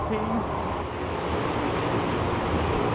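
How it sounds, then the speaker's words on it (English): Constant roaring wind buffeting the microphone indoors at the International Antarctic Centre, wind chill near minus 18, a dense low rumble that never lets up across the whole stretch. "it's so windy in here right now."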